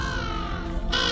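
Crows cawing on the shore of Lake Manasarovar, a close, loud call with harsh repeated caws filling the short moment, no voices present.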